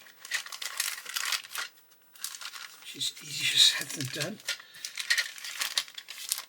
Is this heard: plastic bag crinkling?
yes